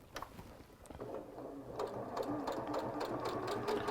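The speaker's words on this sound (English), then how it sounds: "And then just do a nice straight stitch down there as well." A sewing machine runs a straight stitch down a seam, giving a rapid, even mechanical chatter up close that starts softly and settles into a steady run.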